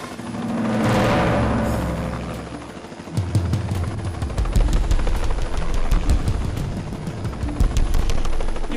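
A helicopter roars close overhead, its heavy whooshing giving way to a loud rapid thudding of rotor blades that continues steadily.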